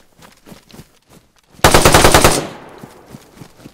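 A burst of machine gun fire aimed at the player in a video game bursts out close and loud, about eight rapid evenly spaced rounds, after quieter scattered game sounds.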